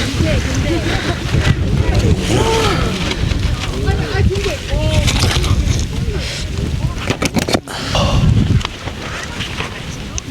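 Strong wind buffets the microphone at a high mountain campsite near 1571 m on Gariwangsan in cold summer weather, a loud continuous roar with gusts, while a person talks throughout.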